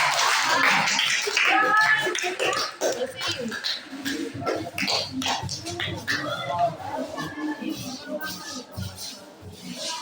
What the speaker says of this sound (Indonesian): Kita kasih tepuk tangan dulu ya untuk kelompok.